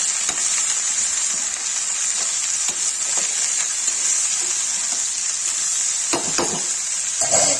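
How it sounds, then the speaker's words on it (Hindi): Sliced okra sizzles steadily in a hot pan with salt added, a continuous bright hiss broken by a few sharp scraping stirs near the end, close and loud with no talking. "अब इसे नमक डाल के इसे चला के ढक देंगे"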